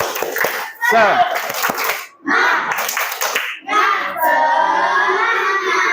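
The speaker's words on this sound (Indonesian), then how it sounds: "Ayo kita tepuk semangat." A fifth-grade class of children in a classroom does a rhythmic spirit clap, clapping in rhythmic bursts and shouting along between the clap patterns, lively and close.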